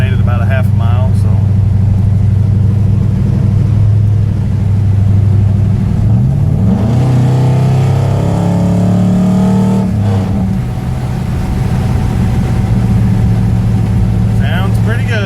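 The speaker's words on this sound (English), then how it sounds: "out here test driving the Belair" An LS-swapped 1967 Chevrolet Bel Air out on a test drive, its V8 droning steadily from inside the car and rising in a clear rev partway through, with someone speaking over it at times.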